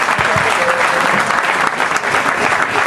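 Loud, sustained applause from a large crowd at a pizza book presentation, honoring Neapolitan pizza makers, dense and even clapping throughout without pause.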